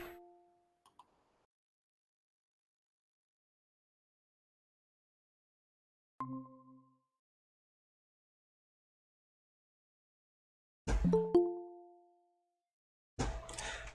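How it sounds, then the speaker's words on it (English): Sparse, faint doorbell chimes ring out in separate bursts against near silence, a few tonal dings spaced several seconds apart, the later ones louder. "If you guys can't hear that doorbell"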